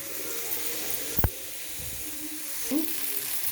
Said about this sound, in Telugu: చూడండి చేపే ఫ్రై చేసేస్తున్నాను.